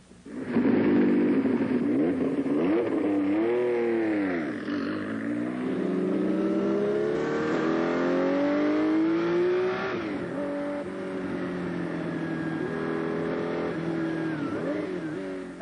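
The Rothmans Porsche 956, a 1980s sports racing car, runs its engine loud and close in a continuous snarl, pitch climbing and dipping through repeated revs and gear changes.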